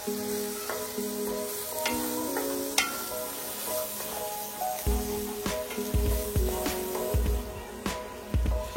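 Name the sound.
spice masala roasting in oil for Chettinad chicken gravy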